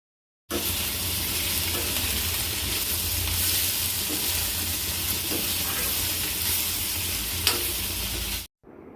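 Bitter gourd (karela) frying slowly in a pan over a low flame, a steady close sizzle and crackle that runs evenly throughout with no voices.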